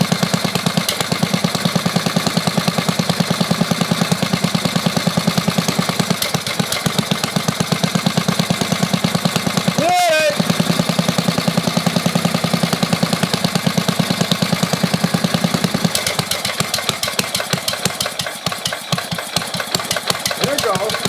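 A 1988 Caldor MTD lawn tractor with an 8 hp Briggs engine running, a loud, steady close-up chugging idle that dips briefly midway and then carries on unevenly.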